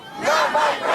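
Crowd of anti-Trump protesters in a street outside a hotel in Chicago, a brief, dense roar of many shouting voices, loud and close.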